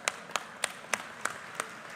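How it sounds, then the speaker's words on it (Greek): An audience at an EU conference on agricultural innovation claps in a slow, even rhythm of about seven separate, fairly quiet claps, with no talking over them. "Θέλω να σας χειροκροτήσω εγώ, εσάς."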